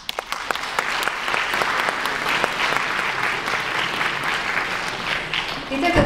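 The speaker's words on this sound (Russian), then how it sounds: "аплодисменты" An audience bursts into applause at a community gathering, scattered claps building quickly into steady, lively clapping that carries on to the end, with a voice breaking in at the close.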